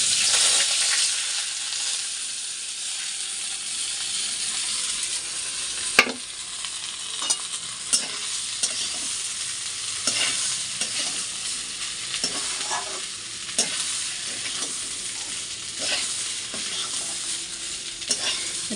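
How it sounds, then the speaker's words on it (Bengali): Food frying in a pan at home, stirred as it cooks: a steady, close hiss of oil runs throughout, broken by scattered scraping and knocking of the spoon against the pan, with one sharper clack near the start. "এটা এখন খুব ভালোভাবে ভেজে নিই, তারপরে শেষে গিয়ে জল দেব"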